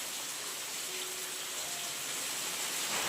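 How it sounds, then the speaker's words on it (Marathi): Heavy monsoon rain pours down steadily as a dense, even hiss that fills the whole clip at a constant level, with no voices. "खूप धो धो पाऊस कोसळतोय"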